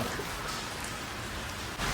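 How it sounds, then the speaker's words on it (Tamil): Heavy rain pours down steadily, a dense, even hiss of drops hitting surfaces that fills the whole stretch without a break or any voice. "மழை பயங்கரமாக இருக்குது."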